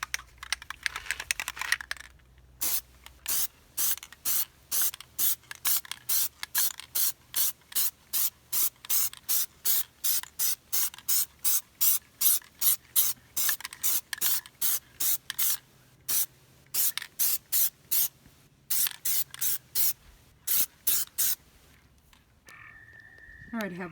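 Plasti Dip coating is sprayed from an aerosol can onto van rims in many short, evenly spaced hissing bursts, close and crisp, with brief pauses between runs of sprays.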